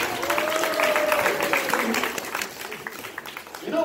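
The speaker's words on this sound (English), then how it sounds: "How about a big hand clap for Willie?" Audience at a children's magic show claps for a young helper, a short burst of applause with cheerful voices and chatter mixed in, fading after a couple of seconds.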